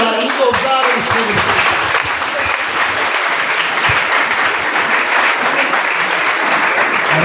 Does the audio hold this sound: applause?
yes